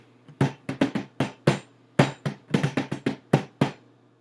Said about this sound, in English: So I'm gonna drum on the top here.